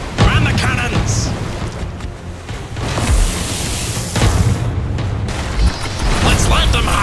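Cannons aboard a ship boom in Pirate Commander, a naval combat video game, with several loud bursts and explosions over continuous low rumble, with a voice speaking between the blasts.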